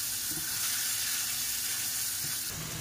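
Octopus recipe ingredients sizzle and fry in a pan while being stirred, a dense continuous hiss with faint scraping strokes, close and steady throughout.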